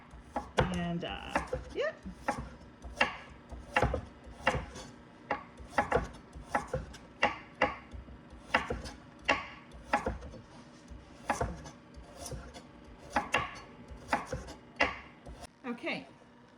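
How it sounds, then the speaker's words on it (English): Carrots being sliced on a cutting board with a knife for dehydrating, a steady run of close, sharp chops about every half second, with a brief spoken remark early on. "I just chop away to get them sliced down"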